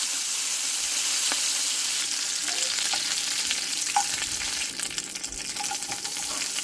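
Curry leaves and onion frying in hot oil for a tempering, a steady close sizzle with crackling pops and occasional stirring clinks throughout.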